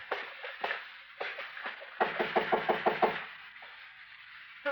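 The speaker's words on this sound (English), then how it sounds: "All right, go ahead and knock." Knuckles knock on a wooden door in a hallway, several separate knocks and then a quick run of about eight even raps, close and clear with no talk.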